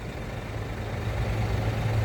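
A Scania truck engine at a dealership service yard, a steady low idling drone with a faint hum, continuous and moderately near with no talk.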